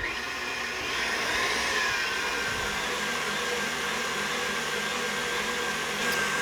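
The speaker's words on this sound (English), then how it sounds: "Back onto the stand mixer it goes. Lock it in, medium high," A stand mixer on medium-high speed whips heavy cream toward soft peaks. It gives a constant, loud whirring drone that holds steady throughout, with no talk.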